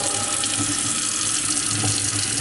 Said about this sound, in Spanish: Tenemos una llave abriendo de manera correcta, funcionando de manera correcta.